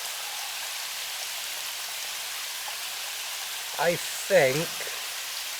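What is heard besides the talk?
stream waterfall flowing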